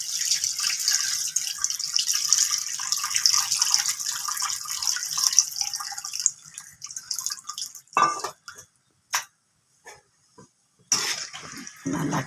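Tamarind water is poured into a pot of fish curry (meen kulambu) with a steady, soft splashing stream for several seconds, followed by a few scattered drips and light clinks.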